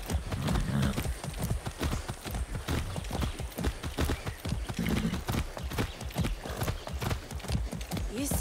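Horse hooves clip-clop steadily at a walking pace in the video game Far Cry 6, close and continuous, with a brief whinny and a voice speaking over the hoofbeats.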